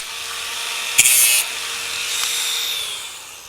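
A wooden beam is cut while a timber garden shed is assembled: a sharp, loud saw burst, then a longer, softer rasping cut that fades away.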